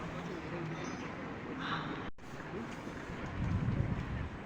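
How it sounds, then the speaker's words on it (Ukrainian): Steady cold outdoor wind buffeting the microphone at a Christmas market, a constant broadband rush that swells near the end, with someone speaking over it. "Так на вулиці холодно такий вітер"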